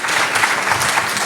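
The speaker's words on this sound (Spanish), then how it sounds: "Otro fuerte aplauso, perdón, para los niños hermosos" Audience at a church Christmas event applauding children who performed, a dense, steady wash of many hands clapping together, loud and close throughout the short stretch.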